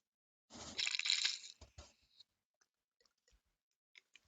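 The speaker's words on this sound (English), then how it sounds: "Sorry, terrible water roll sound." Water sloshing and rolling close by, a bursty wet splash lasting about a second, then a few scattered drips and small clicks fading into near silence.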